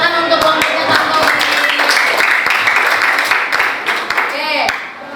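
A classroom of students claps loudly for a group that has just presented, close and vigorous hand claps mixed with cheering voices, fading slightly toward the end.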